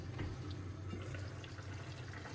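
Hyderabadi mirchi salan gravy simmering in a pan, a soft continuous bubbling and low burbling hiss, steady and close, with no talking.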